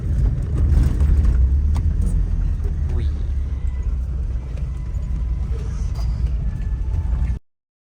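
An open-air tourist vehicle's engine rumbles steadily and close in Kazakhstan, a continuous low drone that runs unbroken until it cuts off abruptly near the end.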